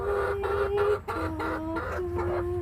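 A pet hen gives a series of soft, rhythmic clucks, close and steady, over a low droning background hum, with no talking.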